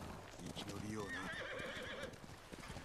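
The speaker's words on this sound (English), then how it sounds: "Let's get on the horse." A horse whinnies with a wavering high call over clip-clopping hooves and background sounds in Ghost of Tsushima, with some talk mixed in.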